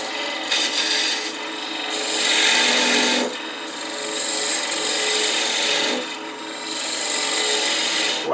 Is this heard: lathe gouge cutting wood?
yes